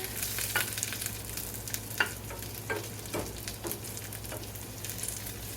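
Food frying in a pan is stirred, a close, steady sizzle broken by repeated scraping strokes at an irregular rhythm, a few strokes louder than the rest.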